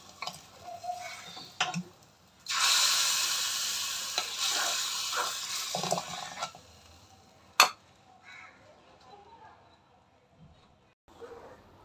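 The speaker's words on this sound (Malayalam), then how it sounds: "അപ്പം ഞാനതിന് കടുക് കൂടെ വറുത്ത് ചേർക്കട്ടെ" Mustard seeds tempered in hot oil for a Kerala-style curry, crackling and spluttering in a loud, dense burst lasting several seconds, with scattered clinks and sharp clicks before and after. A voice speaks briefly nearby.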